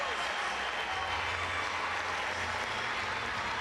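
A crowd at the 2015 Pan-American Games men's team gymnastics competition claps in dense, steady applause filling the arena, with a commentator's voice low underneath.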